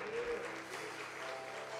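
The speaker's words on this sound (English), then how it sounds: "Give God a hand clap of praise" A church congregation claps in praise during a worship service, a dense, steady roll of applause filling the short moment, fairly close, with voices mixed in.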